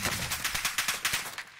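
Rapid automatic gunfire from a Warzone match rattles in a steady burst of evenly spaced shots, moderately loud, then trails off near the end, with no speech over it.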